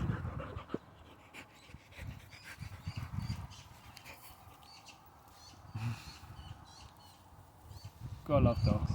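A dog pants softly and steadily at a low level indoors, with faint bird chirps in the background and a louder rustling burst near the end.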